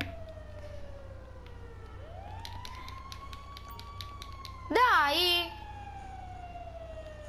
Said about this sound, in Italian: Sì, sono arrivati i pompieri.